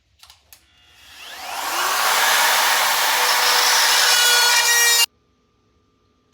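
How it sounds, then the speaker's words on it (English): A RotoZip router bores a hole through the wooden front board of a wood duck box, rising into a loud, steady whining grind that holds for about three seconds and then stops abruptly, after a few short taps at the start. "for punching a hole in the front door, I use a RotoZip router"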